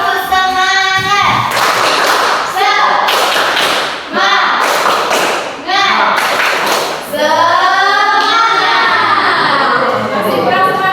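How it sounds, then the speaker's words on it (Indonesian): A school class performs the 'tepuk semangat' chant, children's voices shouting in unison between bursts of rhythmic group clapping, repeated in several loud, energetic phrases. "Kita tepuk semangat dulu ya"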